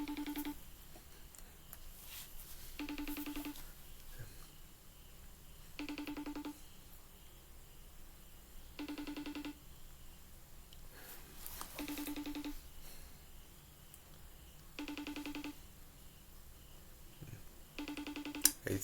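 A phone rings or beeps in short repeated bursts of electronic tones at regular intervals, about six times, moderately loud against a quiet room with no talking.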